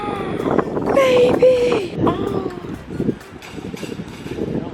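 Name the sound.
wind blowing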